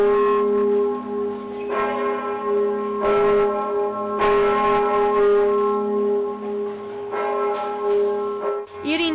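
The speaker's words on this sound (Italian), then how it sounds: "I rintocchi della torre civica accompagnano e cullano il ricordo" Bells of a civic tower in Veneto toll on the anniversary of the Grappa massacre, several loud ringing strikes with long resonant hum and echo between them, no voices.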